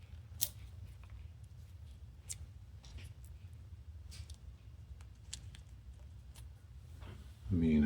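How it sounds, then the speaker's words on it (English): Resin trimming scissors snip near resin castings such as a D20 die, producing sparse sharp clicks and cuts over a low steady hum, with a louder rustle at the end. "resin trimming scissors."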